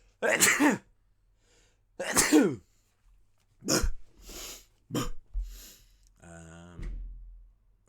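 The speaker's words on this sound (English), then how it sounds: "I'm going to sneeze." Two sharp, loud sneezes a second or so apart, followed by a few shorter throat sounds and a brief nasal snort.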